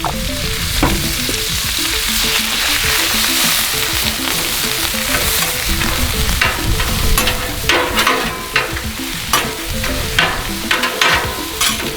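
Canola oil sizzling steadily on a Blackstone griddle during a stir-fry, a dense continuous hiss with scraping stirring strokes growing more frequent toward the end, close and fairly loud.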